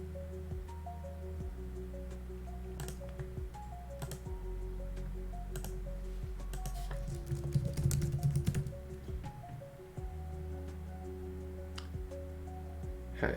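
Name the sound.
loud aggressive mouse clicking by a streamer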